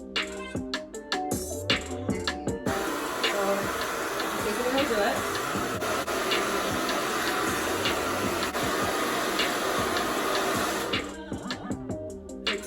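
A handheld blow dryer fitted with a diffuser attachment drying curly hair runs as a steady, loud whoosh for most of the span, with a voice and handling clatter heard before and after.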